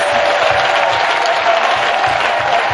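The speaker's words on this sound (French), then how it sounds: "Clap for Jesus." A church congregation claps together for Jesus during a French sermon, a loud, dense patter of many hands with a steady rhythmic pulse underneath.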